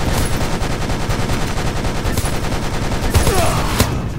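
Steady, rapid automatic gunfire from a hero's weapon in a battle royale video game blending Fortnite and Overwatch, loud and close, a continuous stream of shots with a couple of sharper bangs near the end.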